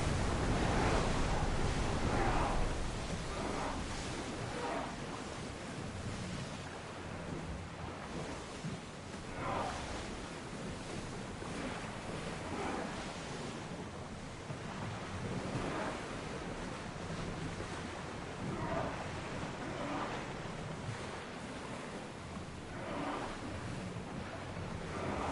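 Ocean waves and wind rush around a sailing ship at full speed on open water in Assassin's Creed Odyssey, a steady, loud, broadband wash of surf and gusting wind with no talk.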